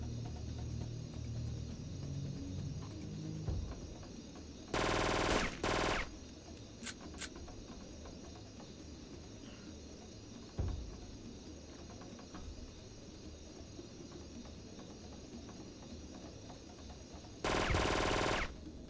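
Gunfire in the video game Syphon Filter 3, Aztec Ruins level, with short loud bursts of automatic fire twice, a few scattered single shots in between, over a low droning game ambience.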